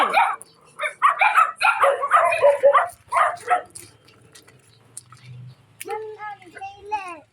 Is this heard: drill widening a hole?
no